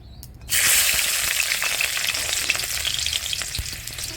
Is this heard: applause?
no